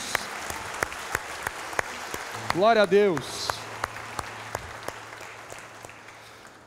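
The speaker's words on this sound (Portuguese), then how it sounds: "Dê um forte aplauso a Jesus." Clapping from a church congregation praising Jesus, evenly spaced claps that sound thin and scattered, with a voice calling out partway through.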